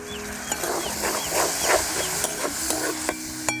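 Onion masala with tomato paste fries in a pan for egg biryani, with a series of rhythmic stirring scrapes over a light sizzle and a steady tonal hum in the background.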